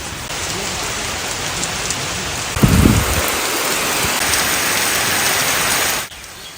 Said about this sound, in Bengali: আষাঢ় শ্রাবণের বৃষ্টি একবার শুরু হলে থামতে চাই না